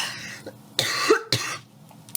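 Two sharp coughs a half second apart, close and abrupt, with faint rustling between them.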